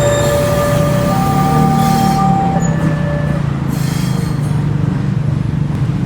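A new INKA KRL electric train is shunted at a station, with long high wheel squeals and a steady low rumble of rolling stock, loud and close.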